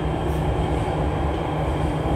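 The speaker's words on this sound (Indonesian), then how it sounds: "Saat ini saya berada di MRT menuju tempat pertemuan kami di Merdeka Barat." Loud, steady interior rumble of a Jakarta MRT subway train in motion, heading toward Merdeka Barat, a continuous low drone with faint wheel noise and no voices.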